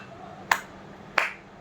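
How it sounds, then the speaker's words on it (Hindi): Two or three sharp, isolated hand claps in a quiet classroom, spaced apart and moderately close, with faint background hiss and no talk. "2-3 तालियों की आवाज़ सुनाई दी"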